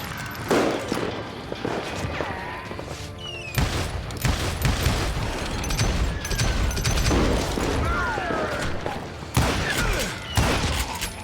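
Gunfire in the Western shooter game Call of Juarez Gunslinger: a dense, loud string of repeated gunshots and booming impacts, with brief whizzing and ricochet-like tones throughout.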